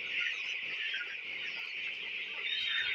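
A large flock of 17-day-old broiler chickens in a poultry shed makes dense, unbroken peeping and clucking chatter, steady and fairly loud throughout, with no talk.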